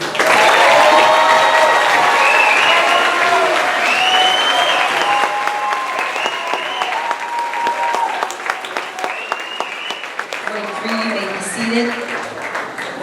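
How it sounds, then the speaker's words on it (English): Dense, sustained applause from a seated audience at a 2019 middle school team promotion ceremony, loud and steady throughout with scattered voices and calls mixed in, thinning slightly toward the end. "Thank you for holding your applause."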